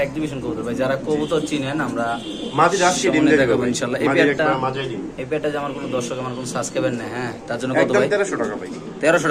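Pigeons coo at a busy pigeon market where pairs are sold, their low calls woven steadily through loud, continuous talk from traders and buyers nearby.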